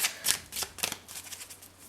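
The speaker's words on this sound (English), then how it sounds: "Just gonna do 3 shuffles." Tarot cards shuffled by hand at close range, a quick run of crisp riffling bursts and soft papery slaps, fairly quiet, with no voices.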